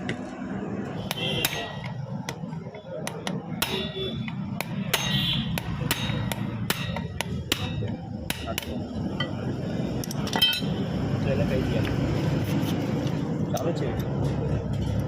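Metal strikes on a big nut on a Honda Activa or TVS Jupiter scooter, beaten to loosen it: a series of sharp, close clanks in irregular bursts, with a voice talking over a steady background hum.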